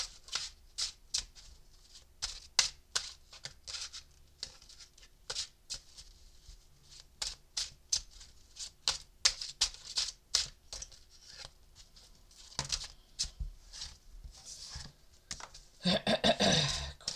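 Tarot cards being shuffled by hand: a long run of quick, crisp riffling bursts in an uneven rhythm, close and fairly quiet, ending in a denser flurry of flicks, with no talking.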